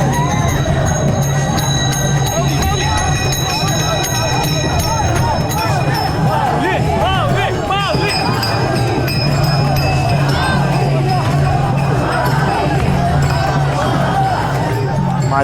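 A dense crowd of Pandharpur Waari pilgrims runs together in the ringan, a steady roar of chatter, cheering and footfalls, with bells or cymbals chiming and clinking throughout.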